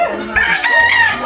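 A rooster crows close by, a loud, drawn-out cock-a-doodle-doo with a few clucking notes at the start and no speech over it.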